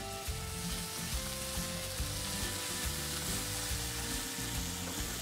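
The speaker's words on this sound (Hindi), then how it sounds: "हमें टमाटर मीडियम आंच पर पकाना है जब तक कि वो कम्प्लीटली सॉफ्ट नहीं हो जाता" Chopped tomato and onions fry in a pan, giving a dense, constant sizzle with light crackles that holds close and steady throughout, no voices over it.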